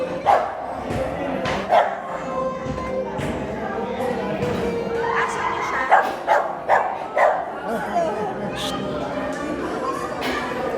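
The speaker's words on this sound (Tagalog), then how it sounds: "Tumahol." A small pet dog barks several times in short bursts near a Filipino family heading home from church, with people talking over the barks throughout.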